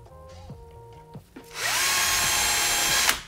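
Power drill boring a pilot hole into timber for a staircase tread, a short start-stop whir followed by a steady, loud high-pitched drilling run of about a second and a half.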